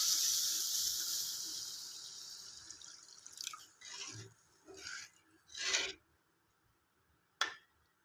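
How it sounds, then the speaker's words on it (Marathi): Half a glass of water poured into a frying fish curry makes a loud sizzle that fades, followed by several splashy, bubbling bursts and a final sharp clink. "अर्धा गिलास पाणी टाकून घेत आहे."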